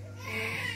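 A baby cries faintly in the background, a thin wavering wail over a low steady hum.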